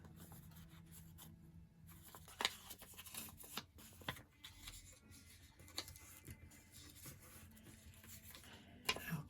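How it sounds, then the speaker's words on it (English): Glue stick rubbed across paper for a handmade bag page, soft close scraping strokes repeating irregularly with a few sharper taps, quiet throughout. "Okay, so I'm going to place glue all on here and place it on my bag"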